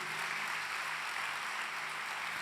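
A church congregation applauds, a dense, steady wash of many clapping hands sustained throughout, loud and unbroken with no voices rising above it.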